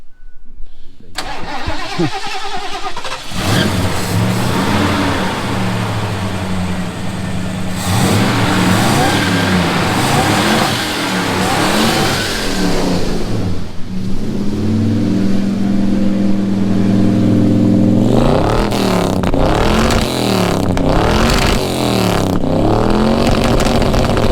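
A rally car engine starts with a sputter, then idles roughly and revs up in several loud, close surges, its exhaust crackling and popping between rises in pitch.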